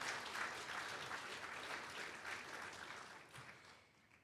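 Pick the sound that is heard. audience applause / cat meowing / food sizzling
audience applause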